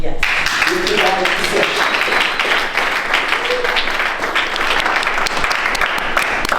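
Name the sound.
audience applause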